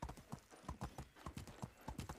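Horse hooves clip-clop in the video game Medieval Dynasty, a steady rhythmic trot of sharp knocks close by, with no speech over it.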